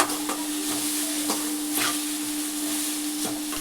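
Tomatoes frying with salt and turmeric in a pan, a steady, close sizzle broken by repeated scrapes and taps of a spoon stirring, with no talking.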